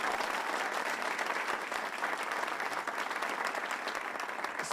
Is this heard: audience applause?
yes